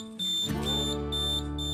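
A homemade NE555 solar alarm clock sounds a steady, loud, piercing electronic beep that holds continuously after a brief start.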